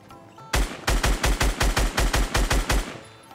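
About a dozen evenly spaced gunshots ring out in the Fortnite video game, loud and close in a steady rhythm, followed by a quiet tail.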